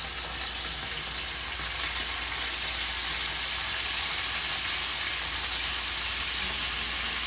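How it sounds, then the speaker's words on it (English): Sweet peppers sizzle and caramelize in fat in a pot, a steady, dense frying hiss that holds evenly throughout with no talking. "we're going to go ahead and add the sweet peppers to this pot and let them caramelize"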